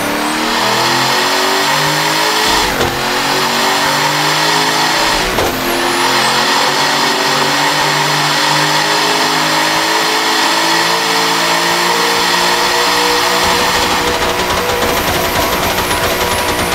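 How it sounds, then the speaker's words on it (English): A GMC Suburban truck with a turbocharged LSX engine, driven in the racing game Assetto Corsa, revs loudly and continuously, its engine note rising and falling in steady sweeps with a couple of sharp shift breaks. "This truck is so loud"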